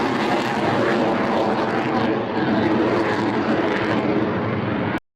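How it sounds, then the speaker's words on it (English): A Chengdu J-20 stealth fighter jet roars overhead in a loud, steady, broadband rush that holds level for about five seconds before cutting off abruptly. "This is a Chengdu J-20."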